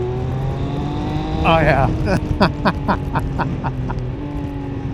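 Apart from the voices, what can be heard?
Triumph Speed Triple 1200 RS motorcycle engine revving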